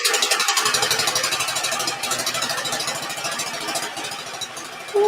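A lawn mower engine idles nearby with a rapid, even chugging pulse that slows slightly, then picks up a louder rev at the very end.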